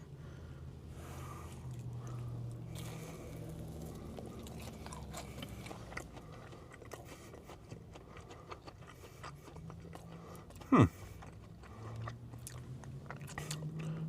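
Quiet, close chewing of a McDonald's McCrispy chicken tender dipped in creamy chili sauce, soft crunching bites spread across the stretch with one sharper crunch near the end.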